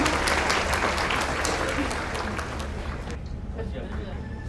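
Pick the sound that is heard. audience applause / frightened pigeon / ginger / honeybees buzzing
audience applause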